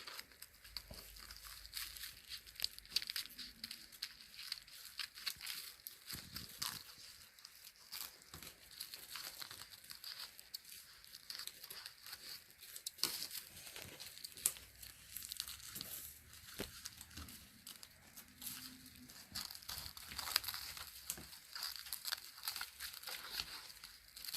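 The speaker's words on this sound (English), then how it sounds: "take a pair of scissors and carefully cut around your stained glass project to remove the excess plastic wrap." Scissors snip and crinkle through excess plastic wrap trimmed around a stained glass sun catcher craft, a steady run of close crumpling and tearing rustles with no talking.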